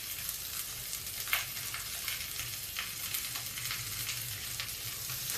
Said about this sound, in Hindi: अब इसी के साथ ही हम थोड़ा सा प्याज डाल देते हैं।